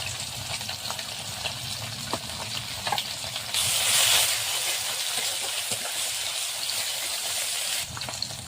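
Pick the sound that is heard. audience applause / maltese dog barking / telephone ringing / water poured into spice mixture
water poured into spice mixture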